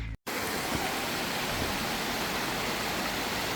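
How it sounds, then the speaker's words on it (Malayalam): Vadattupara waterfall, a small forest waterfall, gives a loud, dense, continuous roar of rushing water close by, after a brief cut of silence at the start. "വടാട്ടുപാറ വെള്ളച്ചാട്ടമാണ് ഈ കാണുന്നത്"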